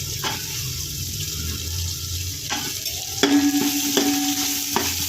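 Mixed vegetables including bitter gourd and tamarind frying in a pan for a Sankranthi kalagura dish, a constant hiss with a few stirring scrapes and clanks toward the end.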